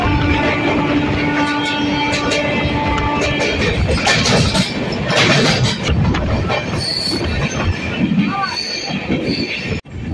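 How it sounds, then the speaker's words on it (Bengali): A passenger train heading toward Tamluk rolls along the rails, loud and close, with squealing wheels, rumbling wagons and a brief horn tone early on, continuous throughout. "ট্রেন ছেড়ে দিল তার গন্তব্যের উদ্দেশ্যে।"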